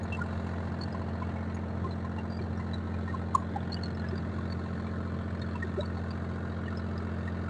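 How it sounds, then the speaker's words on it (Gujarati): A boat travels on the sea near Pipavav port, its engine giving a steady, low, droning hum at moderate distance, with faint water sounds and one small knock, and no voices. "આ અત્યારે તો દરિયામાં હોડી હેલી જાય છે"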